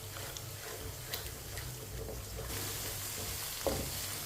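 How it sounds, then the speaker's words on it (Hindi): Mustard greens mixture for Punjabi sarson ka saag being stirred with a spoon as it fries, giving a steady soft sizzle with faint scraping strokes throughout, no voices. "अब इसे 2 मिनट के लिए ऐसे ही चम्मच चलाते हुए पका लेंगे, अच्छी तरह भून लेंगे"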